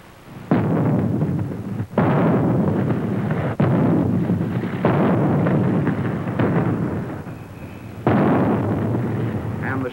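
Artillery shells fitted with timing fuses burst at a proving ground, several loud explosions in succession with long rumbling decays and roughly two-second gaps, heard distant and booming.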